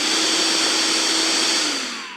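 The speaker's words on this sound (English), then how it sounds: "when we pull the trigger, it activates the vacuum extractor." A DCK 20V rotary hammer's built-in vacuum dust extractor whirs with a steady, loud, close broadband rush and a faint high whine, trailing off slightly at the end.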